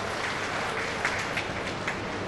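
Dense, continuous applause fills a hall as a crowd welcomes a leader at a party state working committee meeting in Gwalior, a steady loud wash of many hands with no voices.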